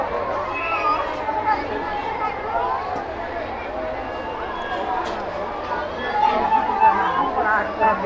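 Dense crowd hubbub at Dhwajadhari temple on the hill in Koderma, many voices chattering at once in a steady, fairly loud wash with no single speaker standing out; no kirtan singing clearly stands out.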